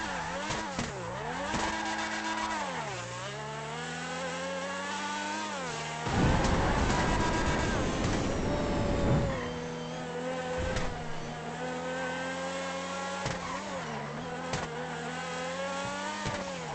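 A car engine revs in a GTA roleplay game, a thin, whiny motor like a toy remote-control car, rising and falling in pitch over and over, with a louder burst of rough noise in the middle, alone without talk.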